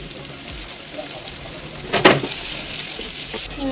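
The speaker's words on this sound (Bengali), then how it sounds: "তারপরে আদা কুচি পেঁয়াজ দিলাম" Chopped ginger and onion frying in a pan, a close, steady sizzle with a louder burst of crackling and stirring partway through, and no talking.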